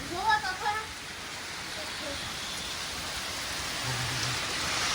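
Heavy monsoon rain pours down as a dense, steady hiss that swells louder toward the end. A few brief voices speak at the start, then the downpour carries on alone.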